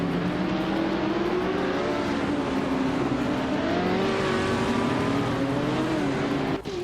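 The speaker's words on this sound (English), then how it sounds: "The race seems tight with a lot of Porsche 917s fighting for position." Several Porsche 917 race cars in a video game race, engines droning and revving steadily together in a dense, continuous roar with shifting pitch as they fight for position, ending with a brief dip.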